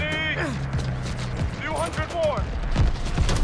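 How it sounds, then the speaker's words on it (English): In the Call of Duty Vanguard campaign, bursts of gunfire strike an aircraft amid whooshing, sweeping flight sounds and thuds. The fire comes in rapid clusters, loud and close, layered with other busy game effects. "Oh, I'm literally dodging into the bullets."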